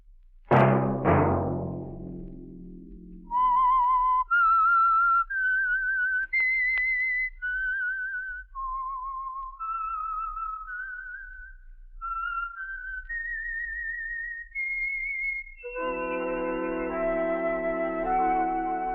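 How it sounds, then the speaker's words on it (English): A melodic whistled theme for the Signal Oil radio mystery program The Whistler, with clear rising and falling tones carried alone, loud and close, after a brief orchestral chord and before the orchestra swells back in at the end. "Let that whistle be your signal for the Signal Oil program, The Whistler"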